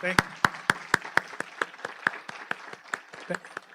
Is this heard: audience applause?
yes